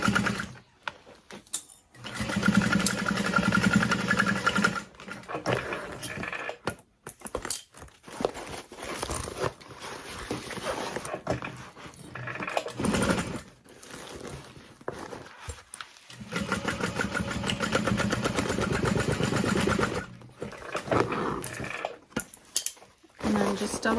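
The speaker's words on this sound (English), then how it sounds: "And I'm just gonna sew along that corner." A sewing machine stitches along the corner of a crossbody bag's side seam, running in bursts of rapid needle chatter that stop and restart, with someone talking between and over the runs.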